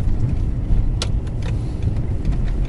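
A car rolling slowly into a car wash on a rainy day, a low steady engine and road rumble close by, with a brief clink partway through and no voices.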